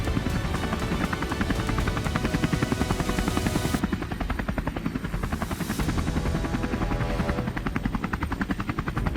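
Helicopter flying low over a wild boar hunt, a steady loud rotor beat and engine whine filling the scene continuously and close, with no talk.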